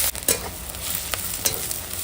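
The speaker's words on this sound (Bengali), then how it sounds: "তো এখন তেলের ওপরে পেঁয়াজটা কাঁচা লঙ্কাটা দিয়ে দিলাম" Sliced onion and green chilli sizzle hard in hot oil, a dense, close crackle broken by a few sharp stirring scrapes.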